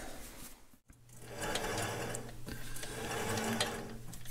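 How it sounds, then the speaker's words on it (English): A metal lathe runs with a repaired Caterpillar D2 PTO part mounted, a steady mechanical whir with a low hum, briefly cut off near the start and then continuing evenly up close. "Let's try it in the lathe."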